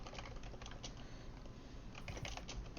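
Steady, busy clatter of keys on a computer keyboard, close and continuous, with a faint hum underneath and no speech.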